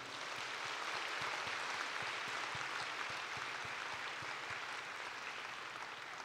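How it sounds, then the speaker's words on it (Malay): Steady applause from an audience, a dense wash of clapping that holds evenly throughout at a fairly soft, distant level. "sekali lagi kita berikan tepukan paling gemuruh kepada mereka"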